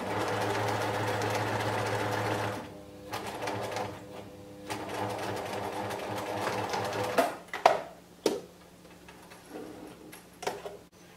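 A domestic sewing machine stitches a boxer shorts leg hem with reverse stitching, a steady close whirring run that pauses, then restarts in short uneven bursts and clicks.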